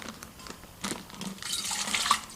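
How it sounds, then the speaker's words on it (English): Liquid being poured from a container into a brewing vessel: a kombucha SCOBY together with its sweetened-tea starter liquid going into a ceramic or glass continuous brewer. Close splashing and trickling arrives in short bursts, then becomes a fuller, steadier pour. "just pour the whole thing in there with its starter liquid"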